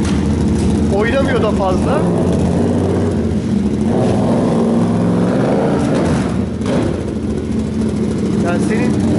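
A Yamaha MT-07 motorcycle fitted with a handmade exhaust runs close and loud, a throaty engine note rising and falling through revs while someone talks over it.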